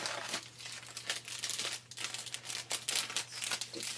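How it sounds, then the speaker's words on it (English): Paper being folded over and over and strips of tape pressed onto it, a busy run of close, irregular crinkles and crackles with a steady low hum beneath, no voices. "Just fold it over and fold it over again. Put a little piece of tape on there."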